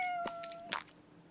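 A cat meows within a K-pop music video, giving one short, bright, close cry with a sharp tonal start. A sustained tone fades just before it, and it stands alone without talking.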